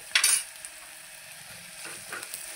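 Green chilies and turmeric fry in hot oil, opening with a brief sharp burst of sizzle and a stir, then settling into a soft, steady low crackle.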